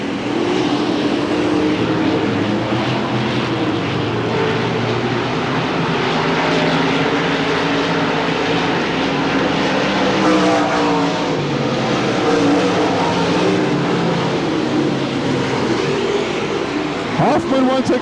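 Stock race cars drone around Hamilton County Speedway in 1993, a loud, continuous engine roar rising and falling as the pack circles, with a race announcer calling the action over it.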